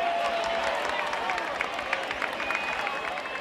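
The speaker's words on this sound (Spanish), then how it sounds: "Un aplauso para él, por favor." An audience at a festival proclamation event applauds continuously, a dense wash of clapping and crowd noise that holds steady for a few seconds at moderate loudness.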